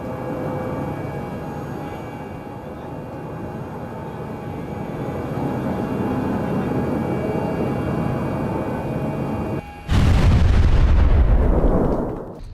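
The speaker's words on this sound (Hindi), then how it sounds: "फिलहाल रॉकेट में विस्फोट हुआ कैसे, इसकी जानकारी हासिल नहीं की जा सकी है।" The Space One rocket exploding shortly after launch: a long roaring rumble of engine noise, then a sudden loud blast that cuts in sharply and fades over a couple of seconds.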